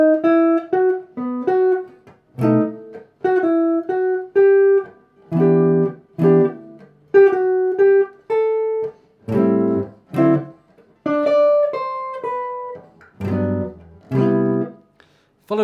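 Guitar chord melody playing the bridge of a song, a clear sequence of plucked chords and single melody notes in phrases separated by short pauses, close and alone.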